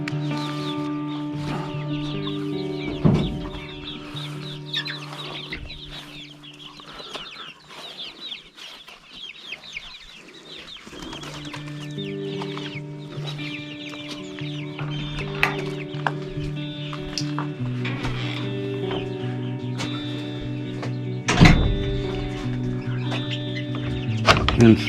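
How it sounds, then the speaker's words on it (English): Laying hens cluck steadily in a farm chicken yard, a dense overlapping chorus of clucks and squawks with occasional louder calls rising above the flock over continuous outdoor background. "over in the third chicken coop and third chicken yard are my laying hens."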